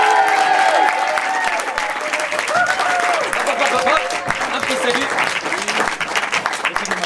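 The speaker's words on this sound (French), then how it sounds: "j'aimerais qu'on applaudisse tout de suite les comédiens!" An audience at an improv cabaret applauds the comedians in a steady, dense wash of clapping that runs the whole time, with a host speaking briefly over it.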